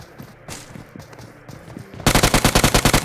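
Rapid automatic gunfire in a solo-versus-duo battle royale match: faint scattered shots and footsteps, then a loud, close burst of about a dozen evenly spaced shots.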